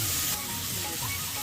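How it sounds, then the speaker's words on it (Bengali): Chopped vegetables fry gently in butter in a pan for egg soup, making a steady, close sizzle that runs throughout with no talking. "এবার আমি হালকা এগুলো ভেজে নেব। আমি এখানে বাটার ব্যবহার করেছি"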